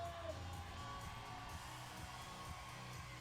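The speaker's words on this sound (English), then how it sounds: "Crowd making an awful lot of noise here for Che Yun-seo" A crowd at a climbing World Cup lead final in Briançon cheers and whoops for a climber, a steady distant roar of voices with occasional yells and a faint whistle, heard quietly from afar.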